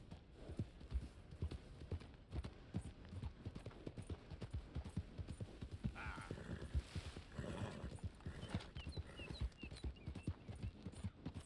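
Horse hooves clip-clop in a steady, brisk rhythm in Red Dead Redemption, close and continuous, with a brief whinny-like sound in the middle.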